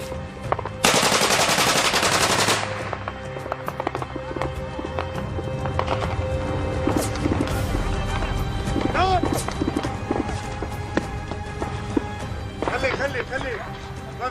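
Rapid automatic gunfire and single shots during a firefight in Homs, Syria, cracking near and far with echoes, while people shout and talk nearby.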